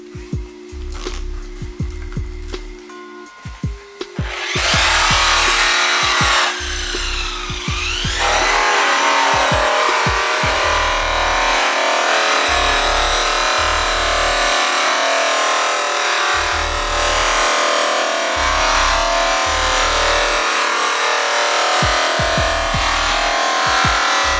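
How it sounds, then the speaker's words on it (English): A buffing wheel turns steadily while green moss polishing compound is pressed onto it, giving a loud continuous machine whir with a low pulsing rhythm and intermittent higher scraping as the compound bar contacts the wheel. "The wheel's already raked, so we just need to put some compound on there."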